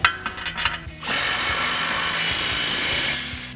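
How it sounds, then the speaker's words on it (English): Power tool rattling as a 19mm socket tightens bolts on a 2021-2025 Ford F-150 coil-over leveling kit, a few short bursts followed by a steady loud buzzing run of about two seconds. "Now we're going to tighten these down with our 19mm socket"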